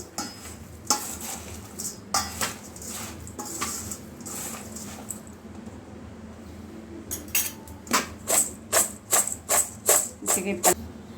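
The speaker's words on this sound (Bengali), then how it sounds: "আমি চামচ দিয়ে ভালো করে এটাকে ঘুরিয়ে নিচ্ছি" Spoon stirring masala muri (puffed rice mixed with broken hot singara) in a bowl, giving a series of close scraping clinks. The clinks are sparse at first, then come as a rapid rhythmic run at the end.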